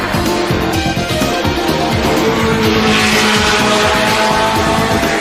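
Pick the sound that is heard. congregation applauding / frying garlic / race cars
race cars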